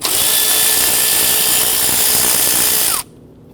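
A powered ratchet loosens 10mm bolts on the intake manifold of a 2011-2015 Kia Sorento. It gives a loud, continuous whirring buzz for about three seconds, then cuts off abruptly, leaving near silence.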